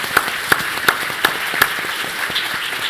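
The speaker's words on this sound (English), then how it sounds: "I think we should clap" A few sharp, separate claps ring out at a lunch plenary session of a health conference, roughly five distinct hits spaced about a third of a second apart over a soft background hiss, then fading into scattered quieter patter.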